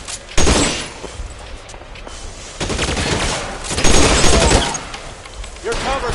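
Rapid gunfire fills a shootout in the crime video game L.A. Noire, loud repeated shots in several bursts with brief gaps, mixed with clattering impacts.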